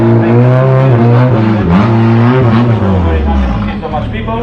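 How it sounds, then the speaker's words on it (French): WTCR touring race car engine under test at a circuit, a loud close rasping roar whose pitch climbs and falls through revving bursts, continuous for several seconds with faint background talk. "Donc là t'entends, il y a une voiture qui est en train de faire du essai moteur"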